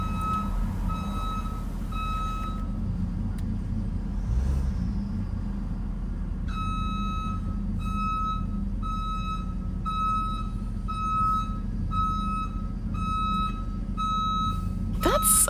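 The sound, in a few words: tow truck reversing beeps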